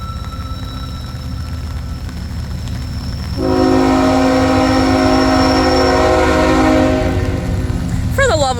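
Two BNSF freight trains roll past in steady rain, a three-engine lead followed by a five-engine consist: constant rumble and rain hiss, then a loud, close multi-chime horn blast swelling in and holding for several seconds before fading.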